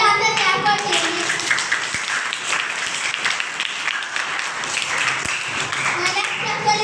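An audience claps for Team B at a quiz competition with a steady, fairly even burst of many hands at moderate volume. Brief talk can be heard at the start and end.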